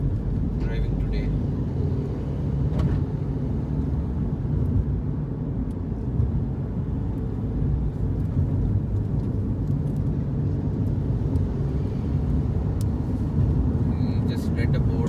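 Steady low road rumble and tyre noise inside a moving car on a trip from Bengaluru toward Bhutan, a continuous drone with someone talking over it.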